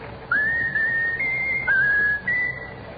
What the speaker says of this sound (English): Now whistle my country tis of thee, Raffles.